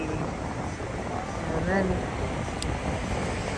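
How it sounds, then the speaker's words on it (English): Steady, roaring wind on Fort Myers Beach, Florida, buffeting the microphone, a constant low rumble throughout, with a voice speaking briefly over it. "It's very windy."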